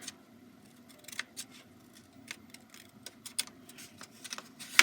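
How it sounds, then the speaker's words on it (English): Scissors snip through paper along the lines of a picture frame flap, a close series of soft, irregular crisp cuts and rustles in quick succession, heard alone. "And just cut those lines"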